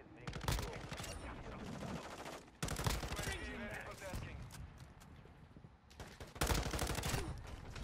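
Dense gunfire crackles and rattles through a Modern Warfare 2 multiplayer hardpoint match, loud bursts of automatic fire repeating in close succession with a player talking over the action.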